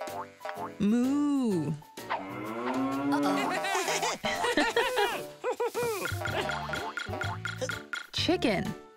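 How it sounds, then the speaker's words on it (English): A cow moos in a long, rising-and-falling call near the start of a children's animated learning show, followed by further sing-song cartoon voices and bright music that continue over the rest of the clip. "Cow."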